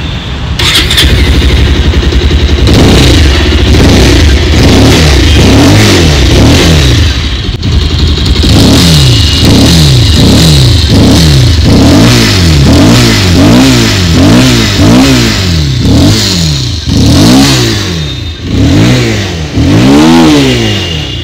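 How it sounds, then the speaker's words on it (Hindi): A Bajaj Pulsar 220F motorcycle idles, then its exhaust is blipped in a long series of sharp, rhythmic revs that rise and fall repeatedly, loud and close with no talking. "और अब मैं इस गाड़ी का आपको एग्जॉस्ट साउंड को"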